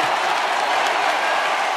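A sellout baseball crowd roars and applauds for Prince Fielder's curtain call at a Brewers home game against the Cardinals in Milwaukee, a dense, steady wall of cheering that stays loud throughout.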